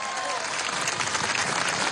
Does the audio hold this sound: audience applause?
yes